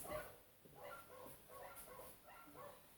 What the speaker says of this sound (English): This dog's going incessantly out there, barking like nuts.